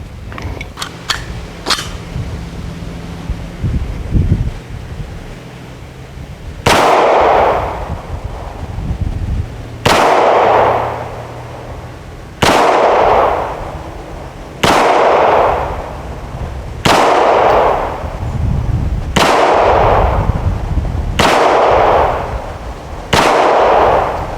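Hi-Point JF9 pistol fired outdoors at a target, about seven loud, sharp shots spaced a few seconds apart, each with a short echoing tail and some wind noise.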